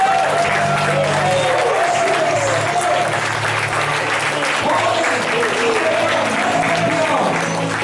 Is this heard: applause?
yes